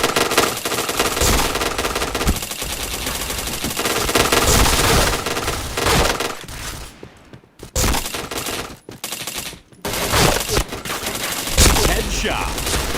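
Rapid automatic gunfire from the shooter game Point Blank rattles loud and near in dense bursts, with brief pauses breaking the volleys midway before firing resumes.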